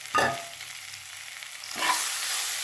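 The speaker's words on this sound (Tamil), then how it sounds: "இப்போ இதே நல்லா வதக்கணும்" Guava chutney ingredients sautéing in a pan make two bright bursts of sizzling as they are stirred, separated by a quieter stretch of low frying hiss.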